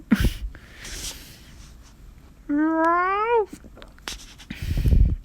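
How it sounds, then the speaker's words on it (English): A kitten in a story video game gives a single clear, rising-and-falling meow lasting about a second, close and distinct, with quiet rustles around it. "The kitten meows"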